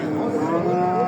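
A pregnant cow at a livestock market gives one loud, close, drawn-out moo lasting about a second.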